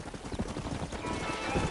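Horse hooves clip-clop at a quick trot in the Red Dead Redemption video game, steady and fairly close, mixed with faint creaking and ambient noise.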